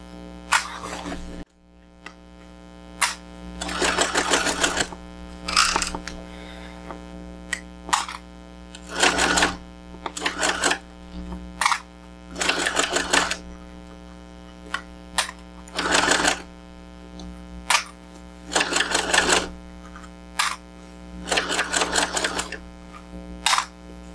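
A sewing machine top stitching a bag strap near a D-ring at an eighth-inch seam allowance, running in repeated short bursts of fast, whirring stitches separated by brief pauses, close and clear over a steady hum.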